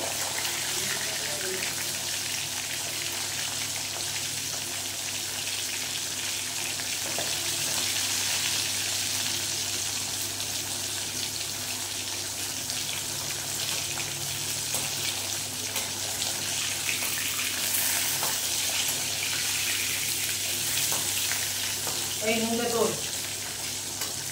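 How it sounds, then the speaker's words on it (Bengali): Pomfret fish frying in oil for a Bengali curry makes a continuous even sizzle throughout, with faint clinks and a brief stir near the end, and no talking. "মাছ ভাজা হচ্ছে, এবারে আমি মাছ ভেজে তেল ঝরিয়ে তুলে নেব।"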